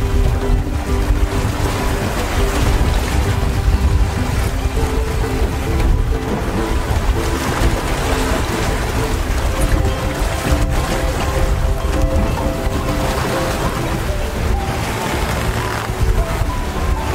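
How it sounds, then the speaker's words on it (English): A catamaran pushing through rough seas, with constant loud rushing water and wind roar, waves slapping the hulls and spray hissing across the whole stretch, with no voices. "It's a catamaran, but still, you need to be careful with what you do in these kinds of seas."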